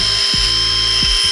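A power tool deburring the inside of a freshly cut 1-inch tube for a mini Jeep build: a loud, steady high-pitched whine running throughout, with a couple of brief dips in pitch as the tool bites.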